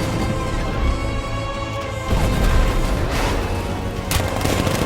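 A tank's 60mm cannon firing in a Batman video game, with heavy booming blasts and crashing impacts over a dense rumbling battle bed. A sharp burst near the middle is followed by further shots, all loud and close.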